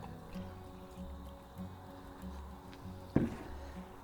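Half a cup of milk and half a cup of water are poured into damper dough for a camp oven bake, giving faint wet drips and a brief sharper splash near the end over quiet background noise.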